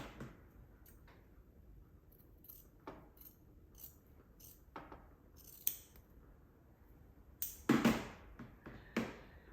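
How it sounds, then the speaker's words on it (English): Scissors snip through quilt binding fabric, a string of sharp, close cuts spread across the moments, quiet between them and ending in a louder cluster of snips. "Let's snip this part off."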